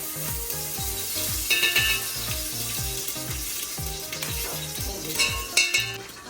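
Ghee is poured into a pot to cook rice and sizzles steadily, with a run of repeated low, bubbling clunks at a fairly even rhythm and a few brighter metallic clinks near the pot.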